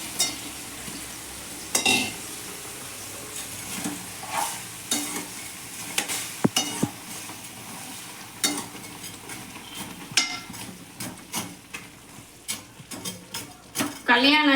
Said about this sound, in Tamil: நம்ம வறுத்த பிரெட்டை வந்து போட்டுடலாம்.